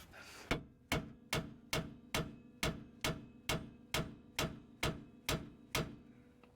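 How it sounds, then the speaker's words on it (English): Hammer blows striking a welded bolt during rear shock replacement on a 2007-2013 Acura MDX, about a dozen sharp metallic hits in an even, steady rhythm, close and loud with no talk. "I'm gonna try to break off our weld and see if I can punch our bolt through and not have to cut anything"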